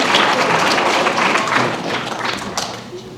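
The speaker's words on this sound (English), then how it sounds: "go ahead and give yourselves a round of applause" A pageant audience in a high school setting applauds as a dense, loud wash of clapping that holds steady and then tapers off slightly toward the end.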